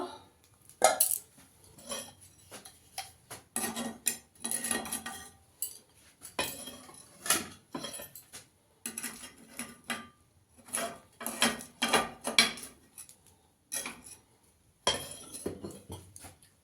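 Pithas soaked in milk being lifted from a pan on a gas stove, heard as repeated clinks and scrapes of a metal utensil against the pan, arriving in irregular bursts with short pauses between them.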